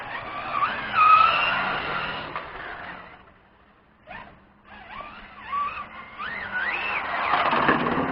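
A Baja 5B-type RC car brakes and skids on its tires, rasping scrapes and squeals rising and falling, a brief lull in the middle, then more sliding noise close by.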